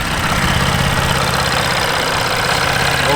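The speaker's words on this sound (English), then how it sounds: "This is a quiet diesel." A 2020 Jeep Wrangler Sahara Altitude with the 3.0 diesel idles close by in a steady, even rumble with a faint knocking clatter.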